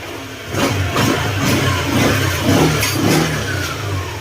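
A Honda Click 125 scooter engine with a worn torque drive bearing runs nearby with an uneven, throbbing idle and a faint rattling undertone.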